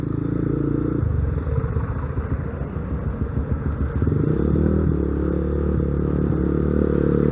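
A Honda NCB150R motorcycle fitted with an oversize 200 engine, ridden in stop-and-go traffic, gives a steady low rumbling drone with some clatter. The engine stays loud and close throughout, with no talk.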